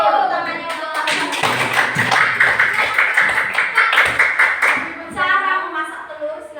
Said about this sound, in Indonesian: tepuk tangannya untuk kalian